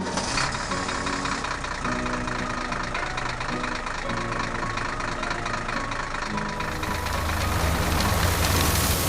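Tractor engine running steadily during field sowing, a continuous loud mechanical drone with rhythmic knocking that swells slightly near the end; no voices.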